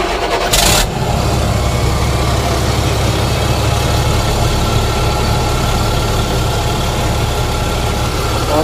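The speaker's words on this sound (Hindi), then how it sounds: "तो क्लियर हो चुका है, गाड़ी स्टार्ट करेंगे।" A Mahindra Blazo BS4 truck's diesel engine, which has a fault, starts with a short burst of cranking and then settles into a loud, steady, rumbling idle close by.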